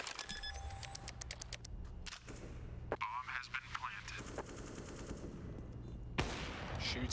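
Bursts of rifle fire crackle in a Counter-Strike match on the Mirage map at a pro tournament, with rapid rattling shots under a commentator's excited talk.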